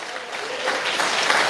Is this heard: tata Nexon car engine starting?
no